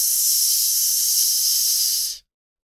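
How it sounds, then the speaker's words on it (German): A sharp, loud, continuous hiss fills about two seconds, standing in for elves hissing in the dark in a Total War: Warhammer 3 story, then cuts off abruptly into silence. "Im Dunkeln zischten die Elfen noch einmal."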